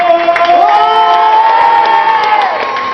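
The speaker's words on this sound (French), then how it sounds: "Un tonnerre d'applaudissements pour Célina." Loud crowd cheering with sustained shouts and whoops, and a bit of clapping underneath, holding steady throughout.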